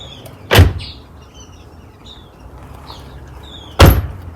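Rear tailgate of a Land Rover Discovery 4 3.0 TDV6 S swinging shut, with two distinct heavy thuds about three seconds apart over a quiet background, close and loud.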